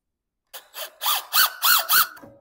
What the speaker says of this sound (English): I guess we're gonna switch to the Craftsman Impact. Drill this side.